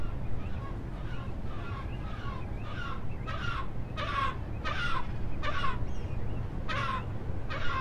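Large bank cormorant fledglings on a nest beg insistently for food, giving a run of harsh, rasping calls in repeated bursts roughly every second, close by, over a steady low background rumble.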